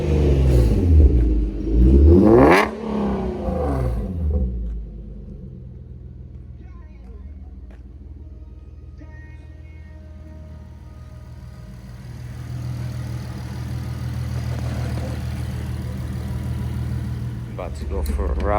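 A Jeep fitted with a replacement VQ37 engine runs close by, opening with a loud rev and rumble, then settling into a lower steady idle that swells again toward the end, with people talking over it.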